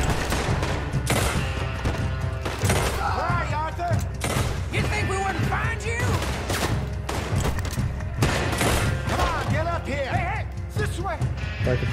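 Gunfire in Red Dead Redemption 2 cracks out in rapid, loud shots, some in quick clusters, over steady game ambience while someone talks throughout.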